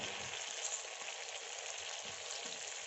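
Roti cones dipped in maida batter frying in hot oil, a steady close bubbling sizzle that stays even and uninterrupted.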